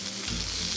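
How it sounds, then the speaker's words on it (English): Prawns and squid stir-fried for seafood nasi goreng sizzle loudly and steadily in a hot pan, a dense continuous frying hiss with a low rumble building in partway through. "Put in the prawns and squid and stir fry till it's about half cooked."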